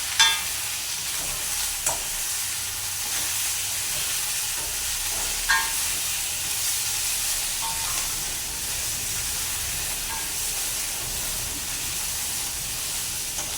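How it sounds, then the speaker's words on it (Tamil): Prawns sautéing in a pan: an even, close sizzle runs throughout, broken by occasional light clicks and scrapes of stirring, with no talking. "இப்போ நாங்கள் இறாலையும் சேர்த்து இப்படி வதக்கிடுவோம்."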